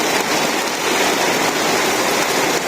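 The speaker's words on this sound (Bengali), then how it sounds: "এই দেখো কি বৃষ্টি," A loud, dense downpour drums steadily on a Bangladeshi village, continuous and close with no voices.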